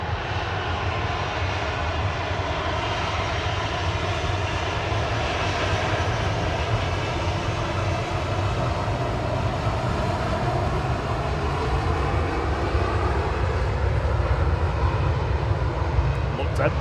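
A KLM airliner taxis at Manchester Airport, its jet engines producing a steady, broad rumbling roar that holds at an even level throughout, heard from some distance outdoors, with a person talking over it.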